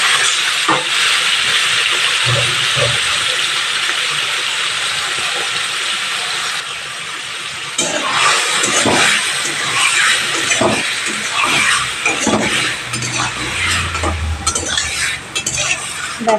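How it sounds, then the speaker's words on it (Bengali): Bombay duck (lote fish) fries lightly in a little oil with salt and turmeric in a kadai, giving a loud, steady hiss and sizzle with scattered stirring scrapes throughout. "লোটে মাছটা একটু হালকা করে ভেজে নেব নুন হলুদ দিয়ে"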